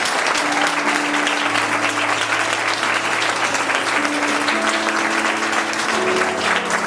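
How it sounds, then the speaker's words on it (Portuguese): A church congregation claps steadily throughout, a dense, loud, continuous wash of applause with sustained music tones underneath and no talking. "dê uma linda salva de palmas para Jesus."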